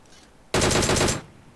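A single short, loud burst of automatic gunfire from the video game PUBG Mobile lasts just over half a second, with rapid shots in quick succession and no talk.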